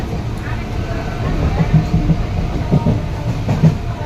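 An Indian railway passenger train running near Kalyani Simanta, a steady low rumble with rhythmic clickety-clack wheel beats over the rail joints, heard from inside the carriage, with speech over it.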